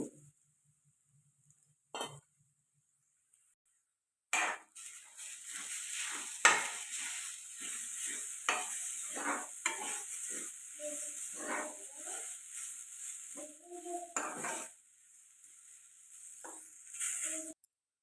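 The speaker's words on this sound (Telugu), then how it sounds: "కొబ్బరి నెయ్యిలోనే కలుపుతూ ఫ్రై చేసుకోవాలండి" Grated coconut frying in ghee while being stirred, starting after a near-silent opening with a soft, close sizzle and intermittent scrapes and clinks of the spoon against the pan; a dog barks faintly in the background.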